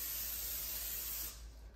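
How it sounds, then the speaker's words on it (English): Nonstick cooking spray hisses steadily into a 9x13 casserole dish, one continuous close spray lasting most of the moment before easing off at the end. "spray it with nonstick cooking spray"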